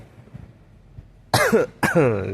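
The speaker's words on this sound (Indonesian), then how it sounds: "Agak batuk sedikit." Quiet room tone, then two loud, harsh coughs close by, about half a second apart, the second trailing off with a rasp.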